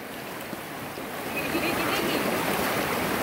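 Someone wades through a flowing river, the rushing, splashing water a steady close wash that grows louder as they move in.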